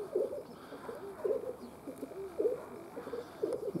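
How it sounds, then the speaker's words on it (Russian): Rock pigeon cooing in soft repeated phrases, about five low throaty coos spaced evenly, close and fairly clear over a quiet outdoor background. "Хороший голубь."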